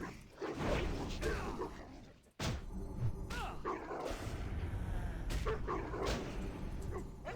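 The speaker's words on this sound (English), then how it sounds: "Get rid of this doggy. Doggy is pretty nasty." A snarling dog enemy in World of Warcraft barks and yips in loud, close bursts, with whooshing combat sounds and talk mixed in.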